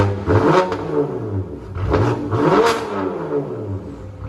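A BMW M3 with a 3.0-litre twin-turbo inline-six is revved hard twice from idle, two loud surging bursts rising and falling close by, with the engine settling to a rough idle between and after.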